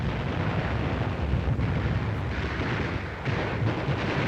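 Heavy enemy gunfire pours from caves on a WWII Pacific island battlefield, a dense, continuous rumbling barrage of blasts and bursts, loud and unbroken throughout.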